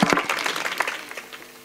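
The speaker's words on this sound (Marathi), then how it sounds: "जोरदार टाळी होऊ द्या" An audience at a kirtan bursts into applause, a brief flurry of hand claps that starts loud and quickly thins out and fades.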